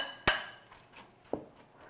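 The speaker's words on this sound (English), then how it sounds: "Just use a spoon, you can use your fingers, fork, just to mix everything together." A spoon knocking against a bowl while mixing crumb topping for a coffee cake: one sharp, bright clink, a few faint taps, then a second duller knock, close and quiet between strikes.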